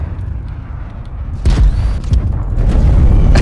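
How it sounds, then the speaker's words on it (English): A grenade blast in Call of Duty: Cold War, one heavy boom hitting suddenly partway through, loud and close, then followed by rumbling and further noisy impacts. "Random nade."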